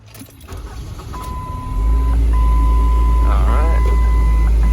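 A 2006 Ford Focus blower fan kicks on and settles into a loud, steady whooshing roar, with a faint electronic chime tone sounding in the background.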